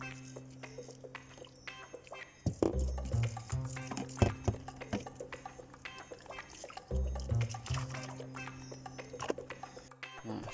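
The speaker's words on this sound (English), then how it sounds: "I just poured some boiling water over the pipe" Boiling water splashes and pours over a caravan's frozen water pipe near a Whale pump, with uneven trickling, a few sharp knocks and thuds, and two louder bursts of pouring close by.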